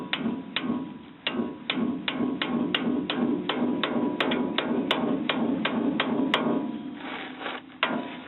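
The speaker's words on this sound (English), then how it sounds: "take a hammer," Steady hammer blows drive a shift fork into the gearbox of a 1973 Ford F100 to pop it loose, roughly a dozen sharp metallic strikes in an even rhythm, close and loud, with no talk over them.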